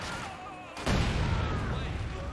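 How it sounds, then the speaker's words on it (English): A landmine detonates in a Company of Heroes 2 battle: a sudden loud blast cuts in partway through, and heavy rumbling battlefield noise continues after it over the quieter background before. "That was not a great landmine, was it?"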